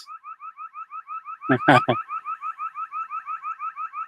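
An outdoor alarm blares a rapid, steady warbling whoop over and over, loud and close, briefly interrupted by a few short barks partway through.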